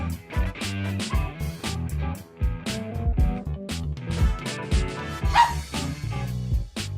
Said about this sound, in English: You hear my dogs barking? They're playing off here in the distance.